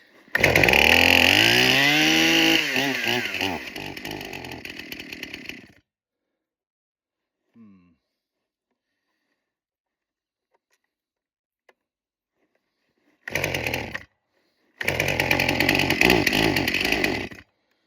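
A Stihl or Husqvarna chainsaw roars loud and close for about six seconds while cutting firewood in winter, its pitch sliding as it loads, then it falls silent and revs again in two short bursts near the end.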